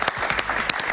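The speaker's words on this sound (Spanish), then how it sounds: "Aplausos para ella." A studio audience on a Spanish-language talk show claps loudly, in a brief, dense burst of applause.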